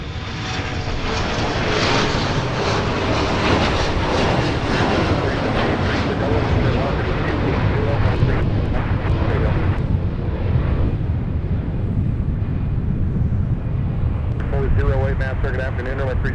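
At Minneapolis–St. Paul airport, a fixed-wing aircraft engine roars loud and close in a broad, continuous wash that slowly shifts in pitch as it passes, with voices faintly underneath.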